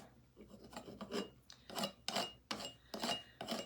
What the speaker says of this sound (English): you could get out some kind of a paint scraper and kind of just chip at it a little bit